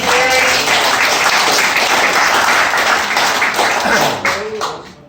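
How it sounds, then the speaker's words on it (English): An audience applauds at an event honoring a former teacher, loud steady clapping that fills the space before fading out near the end, with a brief voice at the close. "hopefully we're going to give you some applause here"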